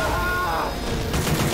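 Gunfire rattles in the zombie shooter game Left 4 Dead 2, a loud, dense stream of shots with a ringing tonal whine and voices mixed in.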